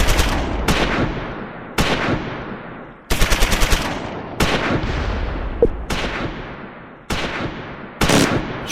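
Medium machine gun firing in the World War II strategy game Close Combat 4, loud close bursts of rapid shots, about seven of them, each followed by a short decaying echo.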